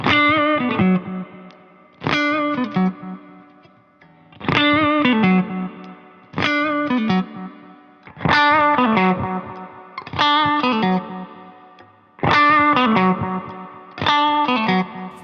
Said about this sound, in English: This is the PAF series humbucker tone.